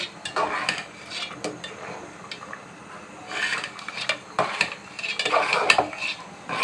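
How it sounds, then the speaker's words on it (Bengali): Mashkalai lentils tipped into a pot while cooking fresh bottle gourd, with repeated clinking of a spoon against the pan and soft scraping stirs in uneven bursts, close and moderately loud. "এখন ডাউলগুলো দিয়ে দিচ্ছি এগুলো কিন্তু মাসকলের ডাউল বলে"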